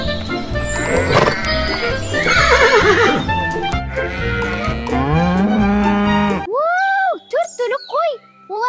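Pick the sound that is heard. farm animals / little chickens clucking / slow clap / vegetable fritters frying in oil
farm animals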